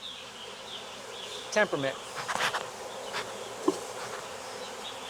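Honeybees from a swarm being shaken into a box give a steady, close insect hum, with a voice speaking briefly partway through and a few handling knocks.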